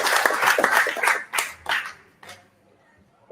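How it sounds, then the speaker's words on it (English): An audience at a whisky single cask launch in Sydney breaks into short bursts of clapping that fade out over a few seconds, with some voices mixed in, ending in near quiet. "we get a round of applause for Dave, all the team that put this together"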